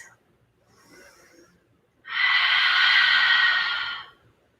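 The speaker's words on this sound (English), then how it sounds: "take a few deep breaths" A long, deep exhale during a yoga practice, preceded by a softer inhale, a steady breathy rush that swells and fades over about two seconds, close and clear with no talk.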